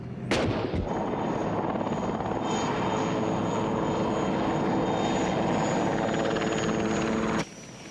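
American combat helicopters fly overhead in a desert war, rotor and engine roar steady and loud throughout before cutting off abruptly near the end.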